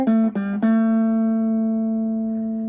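Three quick plucked notes on a Gibson Les Paul Traditional electric guitar through a clean tone, the last note ringing and sustaining smoothly for about two seconds, close and alone.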